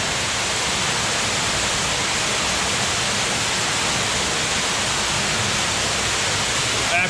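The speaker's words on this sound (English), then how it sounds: "The noise in here is so loud in this water." Loud, dense rushing of water inside a Yorkshire Dales cave fills the space evenly, a constant roaring hiss with no pauses.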